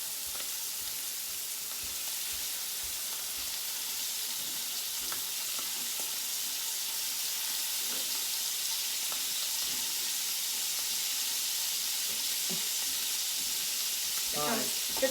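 Scallops sear steadily in a hot pan, a constant bright hiss with occasional soft clinks and pops, louder crackling near the end.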